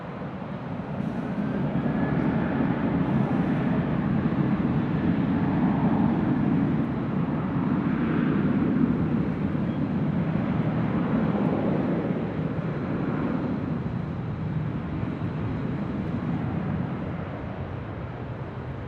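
A Southwest jet airliner takes off from runway 24 left at LAX, a sustained low roar with rising whine, heard from a distance for nearly twenty seconds, loud and steady before easing slightly.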